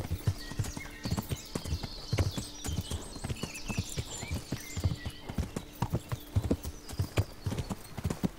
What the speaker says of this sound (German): Na gut, dann reiten wir mal weiter.